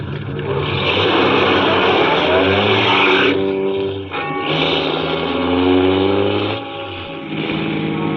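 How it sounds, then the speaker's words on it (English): Car engine drone from a radio drama effect, a steady loud hum with shifting pitch as the car drives along the road, easing briefly around four seconds before resuming; no talk. "After I got the car back on the road again, I felt like a fool."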